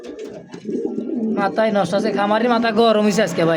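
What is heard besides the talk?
pigeons cooing at a pigeon sale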